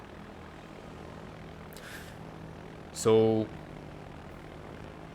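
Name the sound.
torpedo bomber aircraft engines in World of Warships video game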